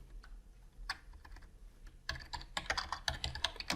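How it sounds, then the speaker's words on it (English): Keys clatter on a computer keyboard in a hospital office, sparse taps at first and then a quick, dense burst of typing, close and clear with no voices. "I'm going to type some words of wisdom in here."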